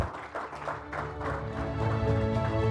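An audience at an industrial raw materials panel gives steady, moderate applause as a speaker is introduced, with a low hum from the hall underneath.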